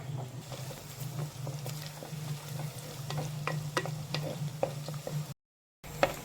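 Garlic and ginger fry in hot oil for a Kerala-style fish curry, a soft continuous sizzle broken by light scraping taps of a spoon stirring the pan, close and fairly quiet, ending with a short silence.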